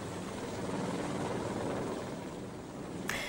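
A Civil Protection rescue helicopter thrums with a steady, even rotor drone, moderately loud and continuous throughout, ending with a brief sharp high-pitched noise at the very end.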